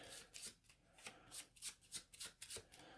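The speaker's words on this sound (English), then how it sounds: "it means these get shuffled and put to the back" Arkham Horror board game cards being shuffled: a steady run of crisp, riffling bursts repeating at an even pace, close and fairly quiet, with no talk.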